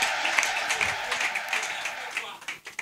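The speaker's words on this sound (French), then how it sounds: "Est-ce qu'on peut encore encourager le DG par des applaudissements, s'il vous plaît?" Audience at a French stand-up comedy show applauding, a dense wash of clapping that holds steady for a few seconds, then thins and fades out near the end.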